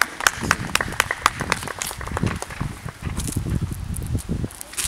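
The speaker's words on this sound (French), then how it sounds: "On l'applaudit, s'il vous plaît." An audience at a dictation contest event in a hall gives brief, scattered applause, sharp individual claps at first thinning into softer rustling and shuffling movement.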